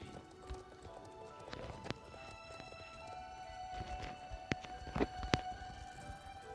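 Hooves of a video-game horse clop at an unhurried walking pace, fairly faint, with a few sharper clicks and tones from the game mixed in.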